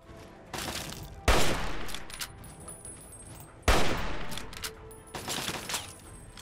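Gunfire from Fallout 3 breaks out in two sharp, loud bursts, each followed by a fading roll of rapid shots and echoing debris, with quieter stretches between them.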